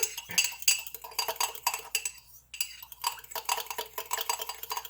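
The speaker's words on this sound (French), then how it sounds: "Je le mélange un peu pour être sûr qu'il va être très bien dilué." A spoon stirs coffee in a cup, mixing and whipping it into a small latte, with a quick run of close, rhythmic clinks and scrapes against the sides and a short pause partway through.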